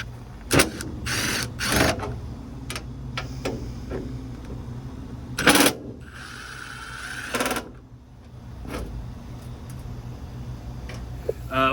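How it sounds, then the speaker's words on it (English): Small screws being backed out with an Allen nut driver on a Generac Guardian 24kW standby generator, a few short clicks and ratcheting scrapes with quiet pauses between turns. "We're gonna take this screw out here."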